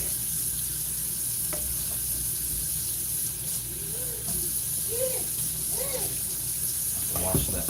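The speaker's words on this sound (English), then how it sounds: "I'm gonna get the sink rinsed, and then I'm gonna get it sanitized here with these Lysol wipes" Water runs into a kitchen sink while it is rinsed, a steady hissing spray under the sound of a person talking, with some clatter of dishes near the end.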